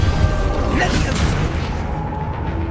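A Levioso levitation spell cast in Hogwarts Legacy amid fast battle spellcasting: a loud rushing, whooshing magical burst with a rising swirl, dense layered combat noise around it, and voices shouting.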